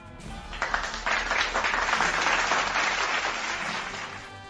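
Steady applause from a Monocaster Lite effect button, a dense crowd clapping at even loudness from start to finish without any voices over it.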